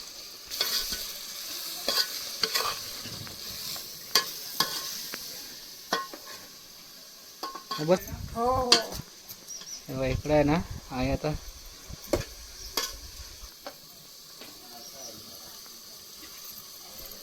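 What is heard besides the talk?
mutton being stirred and fried in a pan on a wood-fired stove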